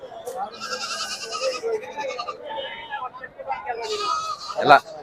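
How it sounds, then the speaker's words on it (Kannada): Several goats bleat loudly, one after another, at the Sira goat market, with people talking in the background amid a busy outdoor crowd. "ಎಲ್ಲ ಟೋಟಲ್ ಮೇಕೆನೆ ನೋಡ್ರಿ ಈ ಸೈಡ್ ಎಲ್ಲ"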